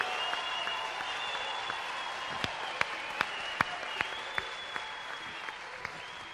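Studio audience applause for a singer on a live television show: a soft, steady bed of clapping with a series of sharp, louder close claps standing out at regular intervals, a sustained tone and some voices running through.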